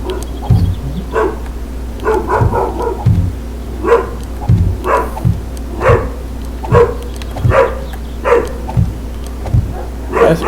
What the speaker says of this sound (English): Oh, that damn dog.